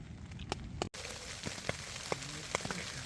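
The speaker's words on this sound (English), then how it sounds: "Little pieces of hail are falling down up here on the mountain at Doll Flats." Small hailstones falling in the mountains at Doll Flats on the Appalachian Trail make sparse, scattered ticks and taps over a steady outdoor hiss, with one brief dropout partway through.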